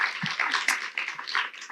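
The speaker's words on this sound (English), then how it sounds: "Let's give them a round of applause." A brief burst of audience applause for a small business policy panel, a short patter of clapping heard alone.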